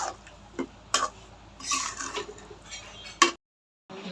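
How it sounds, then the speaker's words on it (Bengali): Coconut boiling with milk in a pan, heard as faint bubbling pops and ticks with a few sharper clinks of stirring, ending in a brief silence. "নারকেলটা দুধ দিয়ে জাল করতেছি, বলক এসে উঠছে"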